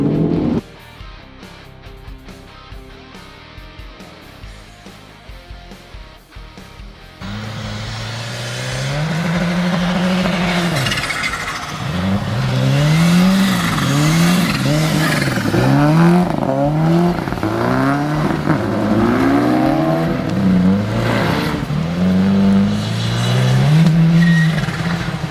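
A 2016 Ford Focus RS accelerates hard at full throttle, its engine note climbing loudly through repeated rising sweeps and gear changes after a quieter opening, with some tire noise possible.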